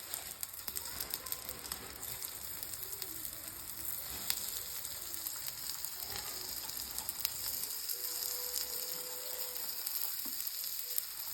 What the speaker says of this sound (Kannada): ಈಗೇನು ನಾವು ಮಾಡ್ಕೊಂಡವಲ್ಲ ಆಲೂ ರೋಲ್ ಇದ್ರಾಗ ಹಾಕಾತೀನಿ